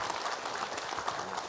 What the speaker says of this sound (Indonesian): Tepuk tangan ibu-ibu boleh.